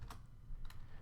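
Computer keyboard typing during Python coding, a couple of quick faint key clicks over a low background hum, with no talking.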